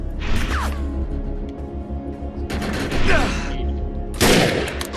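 Sniper rifle fire in the shooter video game Defiance comes as three loud, close bursts of gunfire with whooshing tails, separated by a steady low game rumble.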